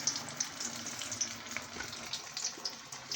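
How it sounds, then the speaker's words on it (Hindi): Aloo tikki potato patties fry in hot Dalda ghee in a pan, giving a steady, crackling sizzle with scattered sharp pops, heard close and fairly quiet, with no talk. "घी में फ्राई करनी है।"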